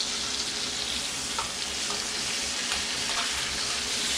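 Steak sizzles steadily in a hot pan just after being flipped, a dense, even crackle of frying juices close up with no voices.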